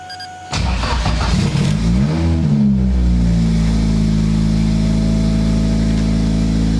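A Toyota Corona with an SR20DET engine cranks briefly, then catches and settles into a loud, steady idle with a low rumble, close by.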